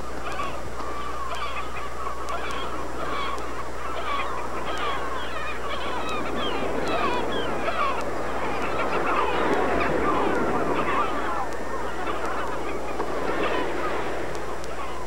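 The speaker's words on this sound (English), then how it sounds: "These are lesser black-backed gulls." A large colony of lesser black-backed gulls calls at once, a dense chorus of honking, laughing cries over a low steady rumble, continuous throughout.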